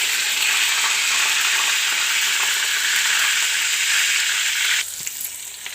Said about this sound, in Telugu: కరివేపాకు, జీలకర్ర వేసిన తర్వాత పచ్చిమిరపకాయలు, ఉల్లిపాయలు వేసాను. ఇవి బాగా వేగాలి.